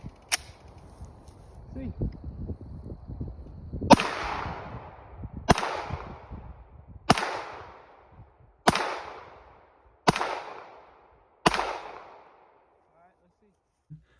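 Six sharp gunshots from a Canik SFX Rival competition pistol fired at a downrange target, each a loud crack with a decaying tail, spaced roughly one and a half seconds apart, following a brief spoken word and some handling noise.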